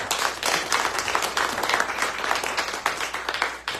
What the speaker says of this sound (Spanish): Le damos un aplauso a Brian entonces.